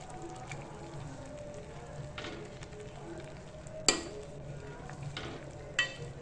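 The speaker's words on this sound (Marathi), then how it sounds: "हा फरसाणा टाकला आपण हा छानपैकी असा ढवळून घ्यायचा आहे आपल्याला" Farsan is stirred into a spicy vegetable curry in a pan, giving a soft continuous sizzle with faint scraping strokes and a couple of sharper clinks of the spoon against the pan.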